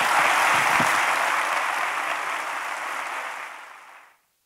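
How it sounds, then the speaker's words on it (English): An audience applauds two speakers arriving on stage at a public debate event. Loud, dense, sustained clapping fills the room for about four seconds, then cuts off abruptly. "Please give a warm round of applause for Will Self and Slavoj Žižek."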